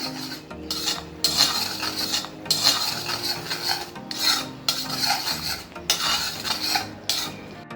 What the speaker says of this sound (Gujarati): હવે આ મસાલાને તમારે સારી રીતે સાતળી લેવાનો છે।